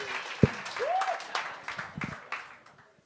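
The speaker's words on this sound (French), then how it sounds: "on te donne un applaudissement pour Karen Arsenault!" Studio audience applause on a French-language TV talent show, a burst of clapping with whoops that swells early then fades out over about three seconds.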